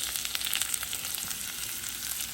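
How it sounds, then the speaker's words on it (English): Sliced onions sizzle in melted butter, a dense, even frying hiss with tiny spattering pops throughout and no one speaking. "I've melted the butter, and we're going to caramelize these onions and go from there."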